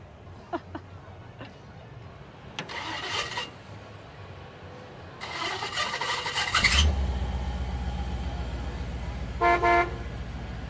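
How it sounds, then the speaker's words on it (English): A giant novelty shopping cart built as a drivable vehicle sounds its horn in a short loud burst near the end, over a steady engine rumble with outdoor traffic noise and a few brief toots earlier. "And there's a horn. Doesn't get better than that."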